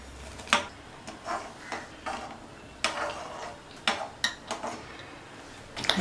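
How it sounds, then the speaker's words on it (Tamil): A spoon stirring semolina scrapes and taps against a pan at an uneven pace, with sharp clinks between softer stirring sounds. "ரவையை கொஞ்சம் கொஞ்சமாக சேர்த்து கிண்டிகிட்டே இருக்கலாம்."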